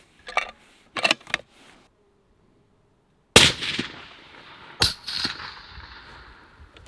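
A suppressed SIG Cross magnum rifle fires a single loud, sharp shot that rings off, followed by a second sharp crack. A few faint clicks come before it, and there is no talk.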